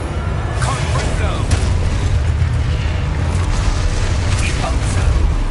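A Confringo fire-blast spell in the Hogwarts Legacy game goes off as a dense, roaring burst with crackling pops, loud and sustained for several seconds amid combat noise.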